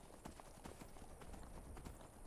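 Horse hooves clip-clop steadily at a trot in the video game Skyrim, a fairly even rhythm of soft thuds with a low rumble of ambient game sound beneath, no voices.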